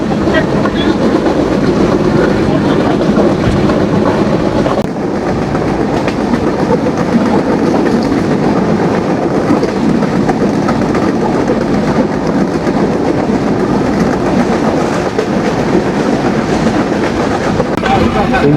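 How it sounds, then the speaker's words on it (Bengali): Kapotaksha Express train departing Kotchandpur railway station in Jhenaidah, bound for Rajshahi; a loud, continuous rolling roar of wheels and carriages with steady clickety-clack rhythm, heard from on board throughout. "দুই মিনিটের একটা যাত্রা বিরতি দিয়ে কপোতাক্ষ এক্সপ্রেস ট্রেনটি ঝিনাইদহ জেলার কোটচাঁদপুর রেলওয়ে স্টেশন থেকে ছেড়ে দিল"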